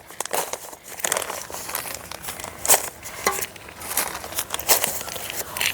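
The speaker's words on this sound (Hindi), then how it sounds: "तो इस तरीके से आप सारे पॉलीथीन बैगों को पहले आप भर लीजिए। भरने के बाद आप इस तरीके से इन्हें रख सकते हैं।" Polythene grow bags crinkle and rustle as they are filled and set in place, a run of irregular crackling handling noises at close range with no talking.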